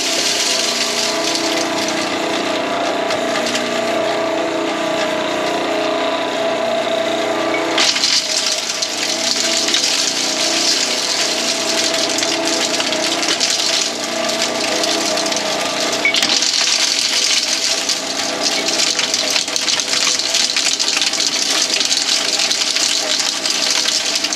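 A small gold ore mill runs steadily with water poured in, a loud continuous grinding and churning that holds for the whole stretch with brief shifts in intensity, no voices.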